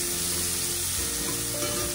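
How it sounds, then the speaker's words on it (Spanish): Onion sautéing in bacon fat for rice with bacon and ripe plantain, a steady close sizzle and crackle of frying running throughout with a faint stir partway through. "Y vamos a sofreír esta cebolla ahí."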